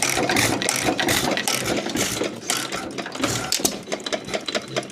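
A 1923 Alamo hit-and-miss stationary engine runs close by in a shed, giving a loud, busy mechanical clatter with rapid rhythmic ticking and knocking that continues without pause.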